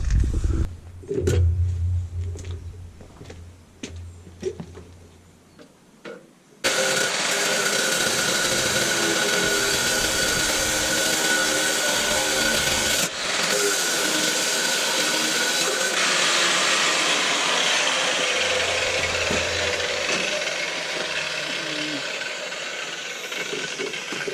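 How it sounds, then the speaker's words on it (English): An angle grinder cuts off a welded boss on a Massey Ferguson 178 tractor link arm, a loud, steady, harsh whine running continuously for about 18 seconds after a few quiet knocks and clatters at the start. "you can have the grinder cut through the whole lot to reduce this back to here-ish"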